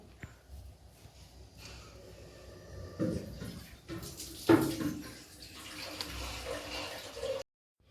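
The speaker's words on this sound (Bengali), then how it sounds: "ডালটাকে একটু ধুয়ে রাখছি ডালটা একটু ধুয়ে নিচ্ছি" Lentils for dal being rinsed with water in a home kitchen, close splashing and swirling with a few louder sloshes and clinks, uneven and intermittent over several seconds.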